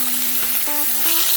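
Chicken sizzles in a small skillet while making gourmet ramen, a steady close crackling hiss with a few faint tonal clinks over it.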